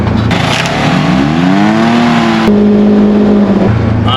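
Polaris Ranger Northstar UTV engine in sport mode, a loud close revving drone whose pitch climbs, holds steady, then drops as it accelerates on a trail.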